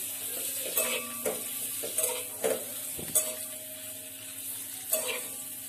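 Masala-coated eggs sizzle in a hot kadai while a spoon stirs them, scraping and clinking against the metal in about seven separate strokes over a steady frying hiss.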